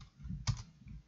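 A single key press on a computer keyboard, a short soft click in the middle of a quiet moment.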